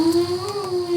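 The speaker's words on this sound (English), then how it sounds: "you can hear the wolves howl in the distance." A wolf howl sound effect plays on a haunted trail at night: one long, sustained, steady tone that drifts slightly in pitch and carries no other sounds.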